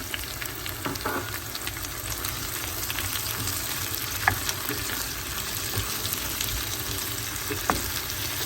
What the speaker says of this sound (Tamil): இப்போ இந்த வெங்காயம் தக்காளி வதங்கிட்டுது